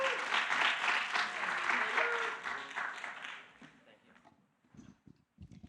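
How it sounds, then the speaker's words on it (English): An audience at a tech talk on agency workflows applauds to welcome two speakers, a loud sustained round of clapping that fades out over several seconds, followed by faint scattered sounds. "Everyone give a warm welcome to Courtney Robertson and Evan Herman."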